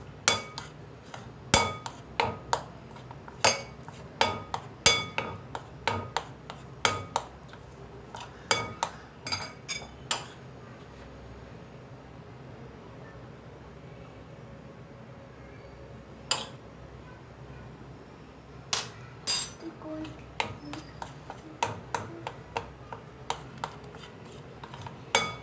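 A whisk or spoon beats eggless cake batter of flour in a bowl, making a rapid series of sharp clinks and taps against the bowl's side that pause briefly midway, with no talking.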